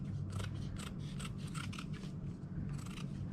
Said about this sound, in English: Let's just take that as a template and cut another piece.